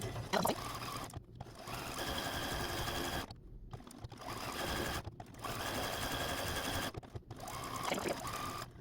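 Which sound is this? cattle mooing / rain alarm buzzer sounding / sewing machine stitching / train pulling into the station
sewing machine stitching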